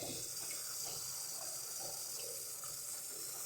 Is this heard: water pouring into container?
yes